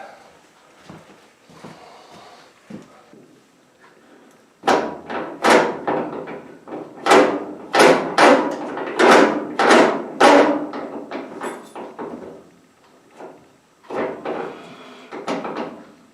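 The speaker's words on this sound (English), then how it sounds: "I'll lift this drum out of here" The drum of a noisy clothes dryer is lifted out of the machine, giving a run of loud hollow metallic thumps and scraping bangs close by, followed by a few softer knocks.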